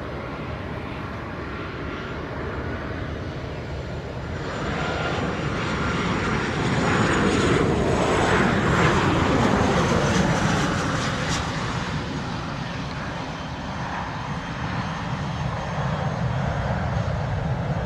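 A Boeing 737-800 airliner on short final to land at Montego Bay, its engine roar loud and steady throughout, swelling as it passes closest mid-way before easing slightly, with no voices.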